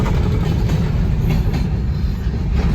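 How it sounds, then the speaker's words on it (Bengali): A Garib Rath express train runs steadily on rails, its loud continuous low rumble and wheel clatter filling the whole stretch without a break and with no voices. "এই রুটে ট্রেন হচ্ছে গরিব রথ,"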